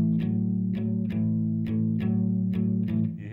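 Electric guitar playing a blues shuffle rhythm with the fretting hand held down, so the notes sustain and run together; a steady, close, repeated chord pattern with a distorted, chorused tone, played alone.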